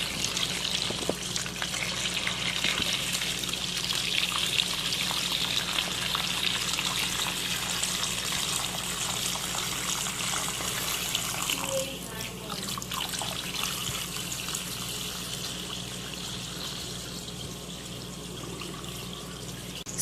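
Turkey brine is poured from a container into a brining bag around the bird, a continuous gushing, splashing stream lasting many seconds and easing off toward the end, close by.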